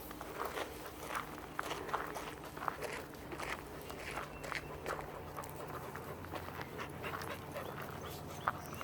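A dog walks with people on a park path, its footsteps and light panting running steadily under outdoor ambience with faint background sounds.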